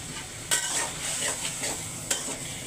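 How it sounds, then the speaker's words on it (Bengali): Leafy greens being stirred and fried in a pan at home, a steady sizzle under scraping stirs, with two sharp utensil clinks against the pan, fairly quiet and close. "এই শাক এখন আজকে দুপুরের জন্য রান্না করে রাখতেছি"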